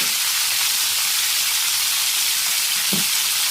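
Kohlrabi fries loudly in a pan as it is stirred, a constant close sizzle and hiss with one brief scrape of the spatula near the end; no talking.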